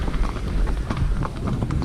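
A horse's hooves clip-clop at a steady walking rhythm on a long-distance ride across Ireland, close and clear, with no talking.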